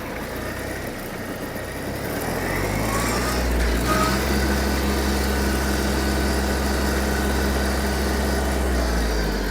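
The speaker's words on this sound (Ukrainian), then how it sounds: "Приємний трактор на ходу, гарно, дуже гарно розганяється." A Japanese Hitachi CX-150 mini tractor's engine revs up as it accelerates, the close, rough drone rising in pitch over the first few seconds, then holding at a steady high-speed roar.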